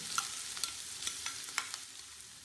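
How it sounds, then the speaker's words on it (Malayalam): Chopped onion sautéing in two tablespoons of oil in a pan for a green peas egg masala: a steady soft sizzle broken by regular scraping stirs of a spoon, close and fairly quiet, with no one speaking. "ഇതിലേക്ക് നേരത്തെ അരിഞ്ഞു വെച്ച സവാള ചേർത്ത് കൊടുത്ത് ഒന്ന് വഴറ്റിയെടുക്കണം"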